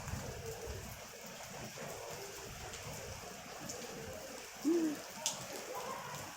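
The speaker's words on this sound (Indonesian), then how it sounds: "Hujan." Heavy rain pours down steadily outdoors, a dense even hiss filling the scene, with a brief bird-like call and a faint thump cutting through near the end.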